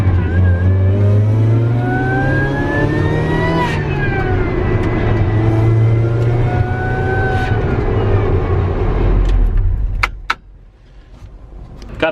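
A car with a fuel leak revs hard while its wheels spin: a loud, sustained engine roar climbs and wavers in pitch for about ten seconds, then drops abruptly to a quieter idle.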